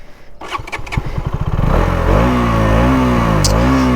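A KTM Duke 200 motorcycle engine sputters to life and then revs up loudly and close by, climbing in pitch and settling into a sustained high whine while the bike is ridden.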